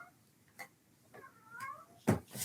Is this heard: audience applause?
no